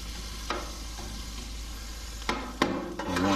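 Meat and vegetables sizzle and fry on a Blackstone 22 griddle, with a steady hiss broken by a few sharp scraping and clanking strokes of a spatula pushing steak-bomb filling around.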